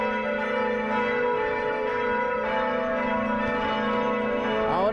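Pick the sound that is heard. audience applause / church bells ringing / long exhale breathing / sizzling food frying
church bells ringing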